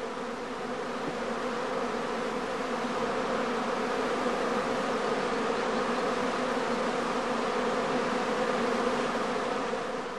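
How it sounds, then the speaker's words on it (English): Honeybees swarm at a hive entrance, a dense, continuous buzzing hum that stays loud and even throughout with no voices. "The experienced eye of the beekeeper can detect the first signs of swarming even at some distance"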